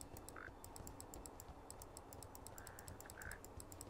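Frogs croak in a fetid pool area of the video game Path of Exile: a few short, mid-pitched croaks come and go over a steady, busy ambient bed with faint repeating high ticks.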